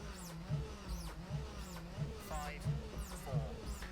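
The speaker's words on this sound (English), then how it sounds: "I won't get bored of that engine sound" A revving Group B rally car engine in the video game EA WRC rises and falls in repeated sweeps, over a background of talk, with pulsing low rumble throughout.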